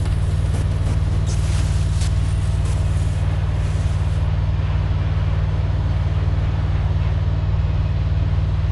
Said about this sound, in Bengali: সামনে একটা মনস্টার ট্র্যাক পেয়ে যায়, এটাকে নিয়েই সামনের দিকে আসতে থাকি